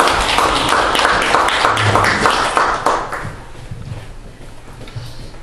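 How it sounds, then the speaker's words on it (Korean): An audience at a Democratic Party press conference claps loudly to welcome lawmaker Park Jie-won, a dense burst of hands that thins and fades out over several seconds. "힘찬 박수로 맞이하겠습니다"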